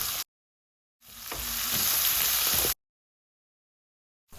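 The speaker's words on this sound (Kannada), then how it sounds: "ಹಾಗೆ 3 ಈರುಳ್ಳಿನ ಹಾಕಿ ಸ್ವಲ್ಪ ಫ್ರೈ ಮಾಡಿಕೊಳ್ಳಿ." Onions and whole garlic frying in a pan for mutton chops gravy, a bright hissing sizzle heard in short bursts separated by silent gaps, close and moderately loud.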